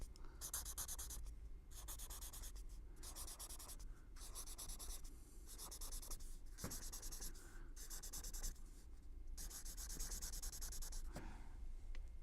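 Pen or chalk writing out the notes of a C major scale in a music lesson, steady scratching strokes in repeated bursts with short pauses, close and clear, no talking.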